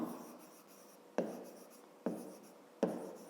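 A pen writes on paper nearby, with soft continuous scratching broken by three sharp taps or strokes, spaced a little under a second apart.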